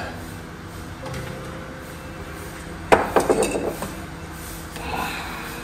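A drinking glass is picked up poolside for a saltwater pool water test, giving a short run of bright clinks and knocks in close succession, close and fairly loud against faint background hum.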